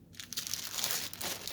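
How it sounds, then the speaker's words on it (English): A plastic bag holding a cross-stitch canvas crinkles up close, a soft, continuous rustling with small crackly bursts and no talk. "It's in a nice plastic bag. Trying not to talk and crinkle at the same time."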